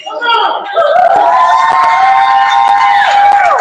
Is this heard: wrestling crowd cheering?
yes